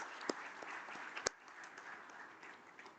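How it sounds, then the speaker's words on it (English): Applause at a pharma and medical device conference in India, faint scattered clapping in a hall with one or two sharper claps standing out, quiet and thinning throughout. "A round of applause."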